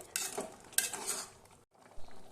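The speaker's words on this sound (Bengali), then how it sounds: "এবার ঢাকাটা খুলে একবার নাড়িয়ে চাড়িয়ে দিচ্ছি" A spoon stirs masoor dal in a pot in two scraping, rattling bursts, followed by a short silence and a softer clink near the end.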